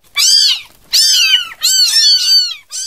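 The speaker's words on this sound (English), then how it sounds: "I got him a kitten." A kitten meows loudly and close up, three long drawn-out high-pitched meows in a row with a fourth beginning at the end.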